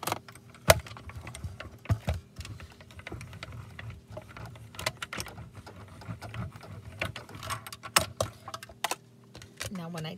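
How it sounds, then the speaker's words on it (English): A mini stamp and emboss machine being cranked with two plates, a card and a die inside, giving a steady run of close mechanical clicks and ratcheting taps under faint background hum. "here I have my mini stamp and emboss machine"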